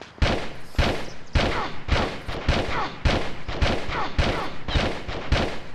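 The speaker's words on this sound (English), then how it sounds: "I'm going to pull out my revolver ammo and just shoot him 10 times with it." Revolver gunshots in Tomb Raider Chronicles, about eleven evenly spaced loud, close bangs fired in a steady rhythm, alone without talk.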